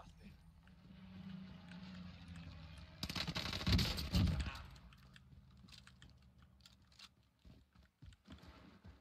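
Gunfire in a battle-royale video game with a gas zone and fire sale: a loud burst of rapid shots mid-clip amid quieter clicking game sounds.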